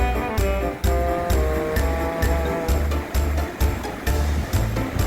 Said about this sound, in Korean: 이 해안가에 밀려오는 파도 소리 들어보십시오